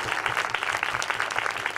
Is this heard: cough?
no